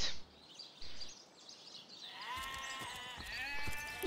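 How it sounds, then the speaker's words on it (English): A sheep bleating in the video game Divinity: Original Sin, a couple of wavering bleats near the end after a quieter stretch with faint ambient sounds. "That's a sheep."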